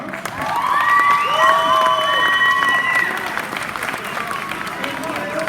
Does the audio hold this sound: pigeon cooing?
no